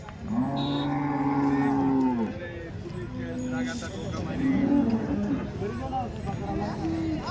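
Cows moo at the Chalisgaon cattle market, one long loud low moo up close followed by more lowing, amid the crowd noise of the busy market with people talking in the background.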